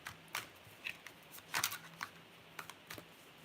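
Tarot cards being shuffled by hand during a live reading, a series of soft irregular riffles and taps, close and quiet, scattered across a few seconds without talk.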